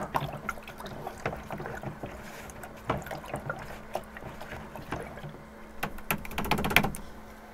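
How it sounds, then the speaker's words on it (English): A round paint brush is swished and tapped in a water container, with irregular splashy sloshing and clinks that swell louder toward the end, close and alone. "Rinsing off my round brush"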